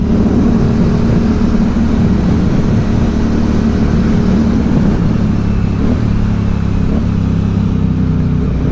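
Aprilia Dorsoduro 750 supermoto motorcycle, a 92 horsepower bike, with its engine droning steadily while riding, a loud constant low rumble mixed with wind noise and no talking throughout.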